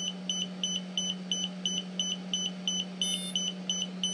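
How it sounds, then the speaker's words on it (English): A steady run of short, high-pitched electronic beeps from a DJI Spark drone pairing, pulsing at an even pace over a constant low electrical hum. "There's the one beep."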